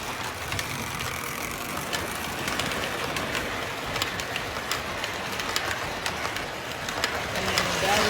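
A model train circles a small toy village, its wheels clicking along the track in a steady light rattle, with a voice speaking over it now and then.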